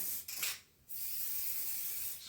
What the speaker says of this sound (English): just spray underneath where the whipping connects to the frame of the action here